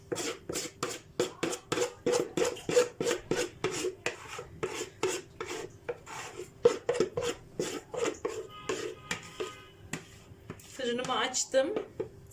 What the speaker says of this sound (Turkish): Şöyle kakao kaşığıyla da sıyırayım.